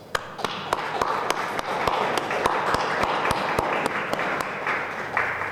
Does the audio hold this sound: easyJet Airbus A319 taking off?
no